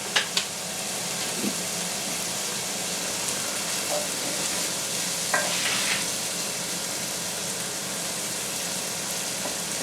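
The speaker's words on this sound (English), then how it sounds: "So we're just going to fry that until we get a little bit of colour on it" Pancetta frying in a pan for an oxtail ragu, giving a continuous, even sizzle close by, with a couple of sharp knocks at the start and faint stirring scrapes, no talking.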